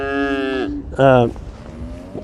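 Two loud, close moos from bull calves, the second starting after a short pause and ending abruptly, with quiet farmyard noise in between.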